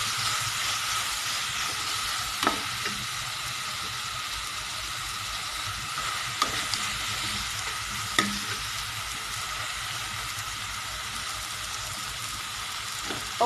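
Tomatoes frying in a pan over a moderate flame for an Assamese home recipe, a continuous even sizzle with a few faint clicks of a spatula against the pan.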